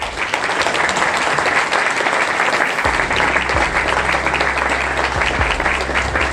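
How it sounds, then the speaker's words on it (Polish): Audience applause fills a speech event after a talk, a dense steady clapping from a crowd that carries on throughout at full strength, with a low musical tone entering partway through. "Wielkie oklaski."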